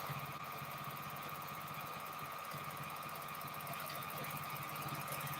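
A home sewing machine runs continuously while quilting, a fast, even mechanical chatter with a steady buzzing hum, close and uninterrupted throughout.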